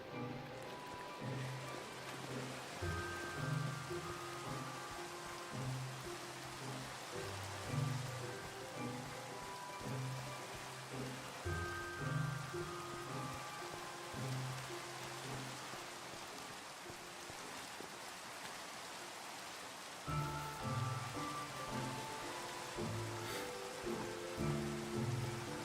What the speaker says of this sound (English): Oh, goody, it's raining too.